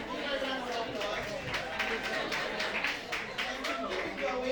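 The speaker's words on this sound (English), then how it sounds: "Give her a round of applause" An audience at a Female Founder Lounge event in Lagos gives steady, moderately loud applause with scattered claps and cheers, mixed with crowd chatter and a voice talking over it.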